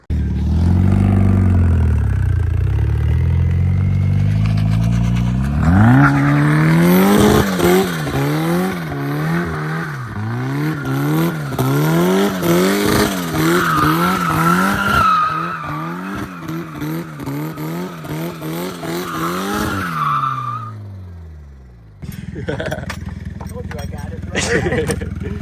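Drift car with a fresh tune for a new turbo, revving hard with rising and falling engine pulls and tire squeal in a cold night setting; speech is present, and the engine drops away near the end before a brief burst returns.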